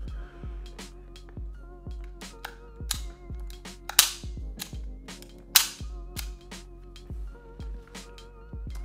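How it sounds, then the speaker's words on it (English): A Taurus handgun being dry-fired and handled gives a run of sharp, close metallic clicks and snaps at an irregular pace, over a faint steady background hum. "don't hate me for dry firing."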